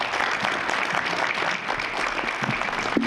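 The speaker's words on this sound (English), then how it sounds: "A big round of applause for our panel." Audience applause after a health care panel discussion, a steady dense clapping from a crowd holding at an even level throughout with no one speaking over it.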